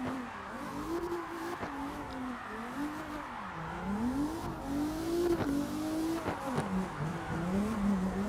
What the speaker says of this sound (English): Finally got some car sounds now.